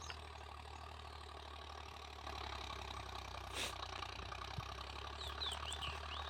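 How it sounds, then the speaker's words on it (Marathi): A tractor engine runs steadily while ploughing a farm field in summer, a low, even mid-distance drone with light knocking, with faint birdsong above it and no talk. "यावर्षी पण ट्रॅक्टरच्या साहाय्याने नांगरट करतो"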